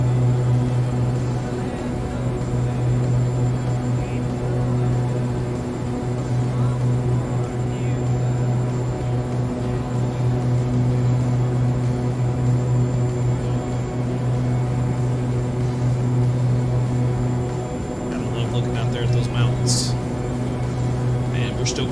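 Steady drone of a Black Square King Air turboprop climbing hard in a flight simulator game, a constant engine hum with a voice talking over it throughout.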